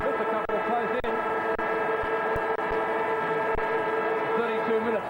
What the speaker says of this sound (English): 32 minutes played in the first quarter as the siren goes, and Talbot has a chance to get a very valua